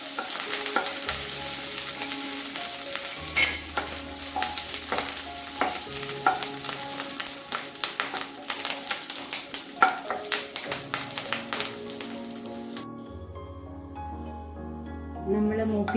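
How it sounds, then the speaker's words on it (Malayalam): Curry leaves sautéing in ghee give a steady sizzle with stirring under prominent background music, until the frying noise drops away near the end. "പിന്നെ കറിവേപ്പില, ഇതെല്ലാം ഈ നെയ്യിലൊന്ന് വഴറ്റണം."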